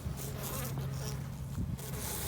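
Honeybees buzz faintly and continuously around a hive nearby, a soft droning hum with the pitch rising and falling as they move about.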